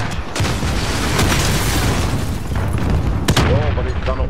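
A Javelin missile strikes in Call of Duty: Modern Warfare, setting off a loud, rumbling explosion mixed with bursts of gunfire, and a voice cuts in briefly near the end.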